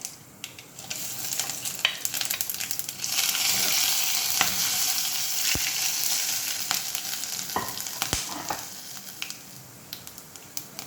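Mustard seeds, fennel seeds and cloves crackle in hot oil, a bright continuous sizzle with scattered sharp pops that swells midway and eases toward the end, with no talking.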